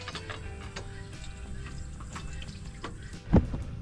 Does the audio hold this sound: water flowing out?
yes